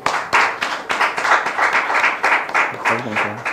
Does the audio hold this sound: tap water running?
no